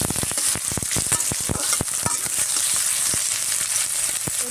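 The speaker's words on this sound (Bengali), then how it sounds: "দিয়ে দিচ্ছি পেঁয়াজ কুচি, আর লঙ্কা, কয়েকটা কাঁচা লঙ্কা" Chopped onion and fresh green chillies fry in hot oil in a pan. The sizzle is loud and continuous, with quick, sharp crackles and spits dense at the start and stirring scrapes, and no voices.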